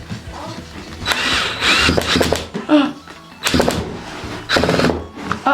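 Power drill driving a screw into plasterboard during a home renovation, several whirring bursts close by with clatter and handling noise between them.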